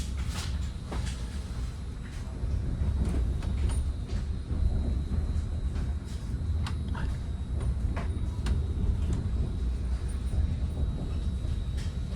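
A southbound Caltrain limited-stop commuter train out of San Francisco's 4th and King station during the evening rush hour, heard from inside as a steady low rumble of the moving railcar with scattered faint clicks and rattles.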